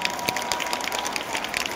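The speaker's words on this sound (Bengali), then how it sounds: "আপনাদের সবাই এবং দেবের জন্য একটা জোরে হাততালি" An audience at a stage event honouring Dev gives loud, dense applause, a continuous rattle of many hands clapping, close and filling the whole stretch without speech.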